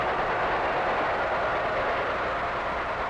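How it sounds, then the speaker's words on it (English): A steady, loud rumble of the Tokyo Express train passing nearby in Japan fills the whole stretch, constant and broad without a distinct whistle standing out. "the whistle of the Tokyo Express."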